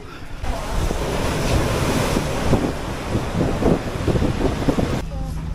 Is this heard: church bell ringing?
no